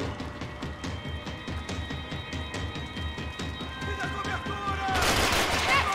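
Rapid, dense automatic gunfire in Max Payne 3, a continuous rattling fusillade of close shots that swells into a louder burst near the end.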